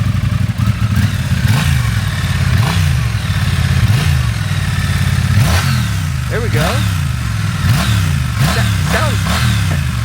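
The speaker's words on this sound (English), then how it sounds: "Give it a little, just a couple little revs, baby revs" A brand-new Triumph motorcycle engine revs up in several short, sharp bursts over a steady idle, close by, with a person talking briefly.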